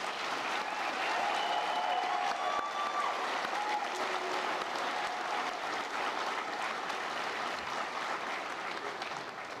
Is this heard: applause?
yes